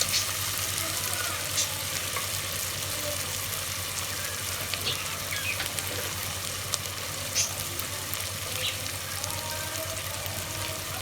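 Spices fry in a pot for a mutton and bitter gourd curry, making a constant close sizzle with occasional soft stirring clinks and scrapes and a low steady hum underneath, without speech.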